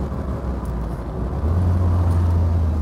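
A 1972 Triumph Spitfire MkIV 1300 engine drones steadily while driving, a low close hum that deepens and grows slightly louder partway through, with no voices.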